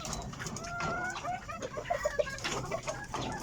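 Backyard gamecocks cluck and chatter steadily at feeding time, several birds close by giving short overlapping clucks over a busy farmyard background with no talk.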